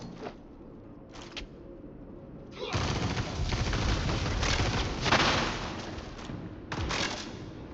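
A shooter video game erupts in sustained, dense gunfire after a few isolated shots, with rapid automatic bursts rolling for several seconds and explosive swells that fit grenades, heard fairly quietly.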